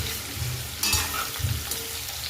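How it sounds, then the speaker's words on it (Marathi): Potatoes for dahi aloo frying in a pan on the gas, a loud close continuous sizzle with a few stirring scrapes. "छान फ्राय करून घेऊ आपण आधी याला मस्तपैकी"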